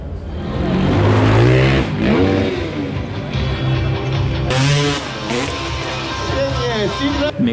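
A Kawasaki Ninja stunt motorcycle revs at the Wroclaw bike show. The engine rises and falls in pitch through several throttle blips, close and fairly loud, with someone talking over much of it.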